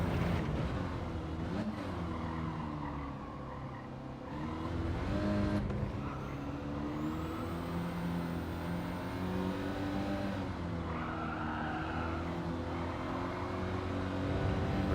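A car engine in a driving video game, droning steadily and rising and falling in pitch through gear changes as the rear end slides out through a corner, loud and continuous with no talking.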